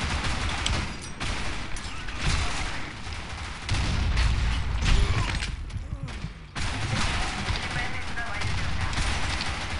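Gunfire from a Blackshot match rattles almost continuously, with bursts and heavier booms overlapping in a busy firefight, while players talk quietly beneath the shooting.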